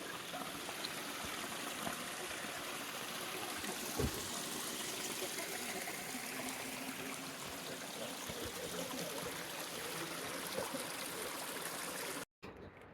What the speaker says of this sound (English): Here's our first water source for the day.